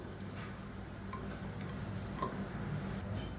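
A large lump of asafoetida fries in hot oil in a kadai, giving a soft, steady sizzle with faint ticking pops, quiet and continuous throughout.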